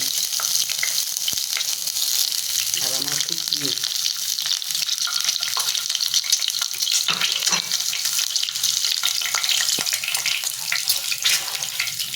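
Split boiled eggs fry in hot oil in a wok in a home kitchen, with a loud continuous sizzle and spatter up close and occasional stirring clinks.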